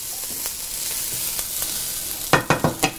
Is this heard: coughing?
no